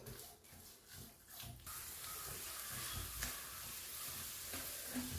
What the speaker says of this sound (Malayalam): ഇത് നന്നായിട്ടൊന്ന് മൂത്ത് വന്നിട്ടുണ്ട്